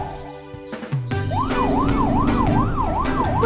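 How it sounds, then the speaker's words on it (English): A cartoon ambulance siren wails in a rising and falling pattern, loud and close, repeating steadily for several cycles after a brief transforming sound. "Morph into an ambulance."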